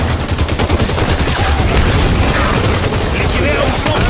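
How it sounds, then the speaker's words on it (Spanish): Rapid, dense bursts of weapon fire and booms from a Covenant Elite in the Halo video game, loud and continuous throughout, with voices shouting in the mix. "¡Me dispara un élite!"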